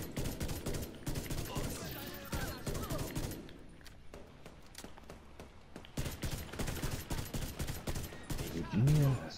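The exotic Ravenous rifle firing in The Division 2 during a raid, rapid bursts of shots in two busy stretches separated by a quieter pause, with other game sounds mixed in.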